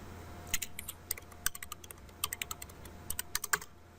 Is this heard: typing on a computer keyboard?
yes